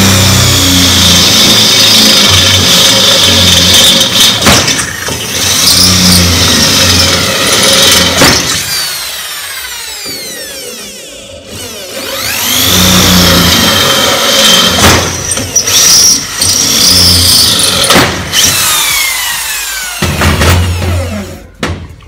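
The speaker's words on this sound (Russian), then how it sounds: "И сверлим." An electric drill bores into a steel profile-pipe gate for a lock, with loud whining and grinding that runs in long drilling passes, brief pauses and restarts, close to the work.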